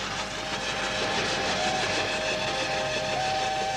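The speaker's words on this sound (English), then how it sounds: "Jackie Gilchrist is briefly tempted to leap on the down train, but thinks better of it" A down train rolls past on the line with a steady, dense rumble and rattle of wagons, a thin whistle-like tone sounding above it in the second half, close and continuous throughout.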